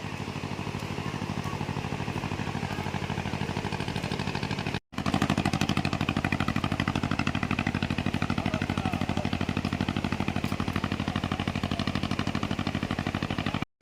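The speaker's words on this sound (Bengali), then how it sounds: "এই যে দূরে একটা ট্রলার আসছে, মাছ ধরে ফিরছে।" A distant fishing trawler returning to shore off Tajpur beach chugs with a fast, even engine pulse under steady broadband seaside noise, running continuously with a brief break midway.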